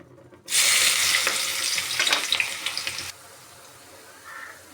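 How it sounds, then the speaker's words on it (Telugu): Onion pieces dropped into hot oil for a goat tripe masala curry, an abrupt loud burst of crackling sizzle that pops and spatters for a few seconds, then falls to a quieter simmer. "ఆయిల్ వేడైంది ఉల్లిపాయ ముక్కలు వేసుకుందాం"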